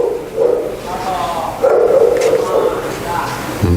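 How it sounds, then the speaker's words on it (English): A dog barks repeatedly at a truck, with loud, close yaps and whining barks in quick bursts, while voices talk alongside. "the dog's barking at the truck."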